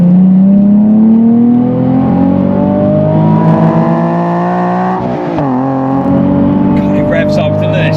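A Nissan 370Z NISMO sports car engine revs hard on a track and climbs steadily in pitch, briefly dips at a gear change with an auto throttle blip, then keeps screaming upward; occupants talk faintly underneath.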